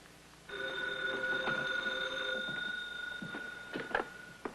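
A telephone rings at a police station with a bright, sustained bell tone for about two seconds. Soft clicks and faint knocks follow in an otherwise quiet room.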